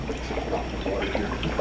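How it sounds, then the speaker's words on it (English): An aquarium bubbler runs at the back of a guppy tank, giving a close, steady bubbling and trickling wash of water with a low hum underneath. "We got the little bubbler in the back"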